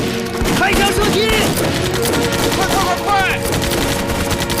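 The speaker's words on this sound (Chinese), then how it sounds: "7号防线右侧的2里地外的江边有激烈的枪声" Intense gunfire with machine-gun bursts and scattered shots near a riverbank, loud and continuous across the whole stretch, with shouted voices briefly rising through the battle noise.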